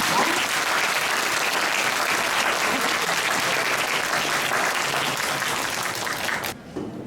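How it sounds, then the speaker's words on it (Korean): An audience applauds after a high school team debate final in a hall. Loud, dense, continuous clapping carries on for over six seconds, then breaks off abruptly. "멋진 토론 펼쳐주신 양 팀에게 다시 한번 큰 박수 부탁드립니다"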